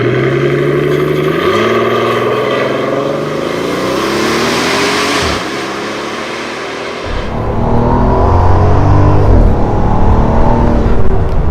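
A Brabus S650 Maybach with 900 horsepower accelerates hard from a standstill, its engine climbing through rising revs with a brief pause at a gear change before it pulls strongly again, loud and close from inside the car.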